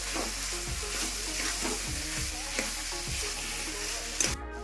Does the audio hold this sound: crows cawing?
no